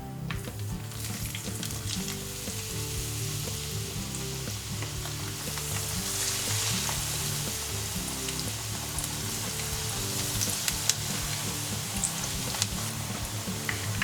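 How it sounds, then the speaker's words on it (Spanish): Eggplant slices fry in plenty of hot oil in a pan, a dense continuous sizzle with crackling pops and occasional stirring, loud and close. "Ahora, en una sartén con abundante aceite caliente las vamos friendo."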